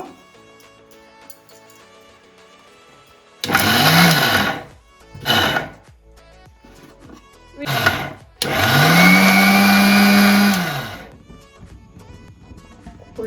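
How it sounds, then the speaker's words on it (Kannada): A kitchen mixer grinder coarsely grinds a cardamom mixture in short loud pulses, one long whirring run, two brief bursts, then another long run, with near silence between them. "ಇದನ್ನು ಸ್ವಲ್ಪ ಸ್ವಲ್ಪ ಮಿಕ್ಸಿ ಮಿಕ್ಸಿ ಹಾಕ್ಕೊಂಡು ಚೂರೆ ರುಬ್ಕೊಂಬರೋಣ"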